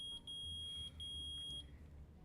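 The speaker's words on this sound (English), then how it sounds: "It's beeping. The metal detector's found something." A metal detector in the Ace Attorney video game beeps in a steady run of short, thin, high electronic tones, fairly quiet over a low game music bed, with no voices.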